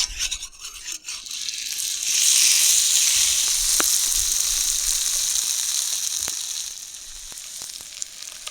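Red pomfret fish frying in a pan of hot oil in a village kitchen, giving a steady close sizzle that swells louder midway, with a few faint clicks and no talking.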